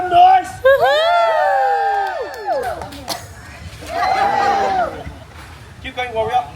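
A crowd on a Koka Lagoon cruise in the Cook Islands whoops and cheers loudly for a tree-climbing warrior, with bursts of shouting, a lull in the middle and another swell of cheers at the end.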